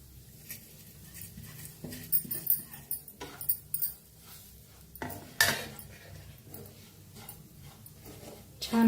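Bitter gourd is stirred with ground peanuts and sesame, a spoon clinking and scraping against the pan in irregular bursts, fairly soft and close, with faint voices now and then.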